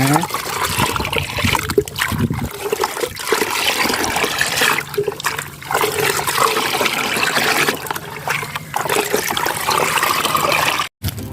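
Homemade liquid root-boosting fertilizer is poured onto plants as a steady stream of liquid splashing and trickling, close and continuous for several seconds, with brief pauses and someone talking over it.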